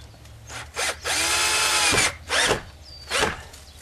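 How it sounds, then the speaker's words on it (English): Power drill driving a screw into a wooden fence post: several close, loud bursts of whirring motor, one long sustained run followed by short spurts with brief pauses between. "And I can screw it right in, right there."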